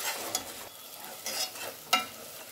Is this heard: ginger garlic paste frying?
yes